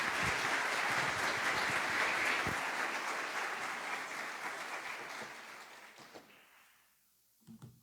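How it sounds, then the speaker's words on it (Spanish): Audience applause welcoming a priest to speak at a symposium, a full burst of clapping that gradually thins and fades to near silence, followed by a couple of faint knocks or movements. "recibimos al padre Manuel con un aplauso"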